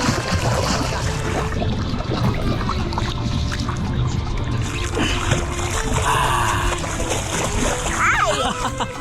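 Kids kicking with swim fins push a paddleboard through water in the Florida Keys, churning up loud, continuous splashing and sloshing close by, with voices talking over it.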